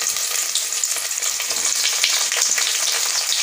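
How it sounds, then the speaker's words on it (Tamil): Onion frying in a pan with ginger garlic paste, a loud dense sizzling hiss that holds steady throughout, close and continuous with no voices. "பெரிய வெங்காயம் சேர்த்துடலாங்க."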